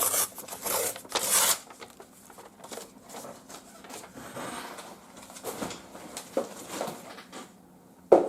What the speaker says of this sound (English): I'm just going to get a ruler and I'm just going to tear